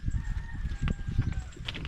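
Nearby chicken clucking and a short crowing call over a low rumbling background, brief and moderately faint.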